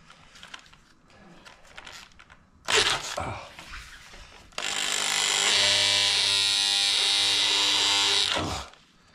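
A power drill bores through a wooden sunroom table in a loud, sustained whirring burst of about four seconds, preceded by a brief shorter spin and scattered handling knocks.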